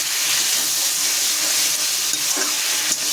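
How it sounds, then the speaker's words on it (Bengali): Fish sizzles and fries in a pan as a bowl of water goes in, a loud continuous hiss and crackle filling the whole stretch with faint stirring underneath. "দিয়ে দেবো সেটা একটু বাটি দেওয়া জলটা"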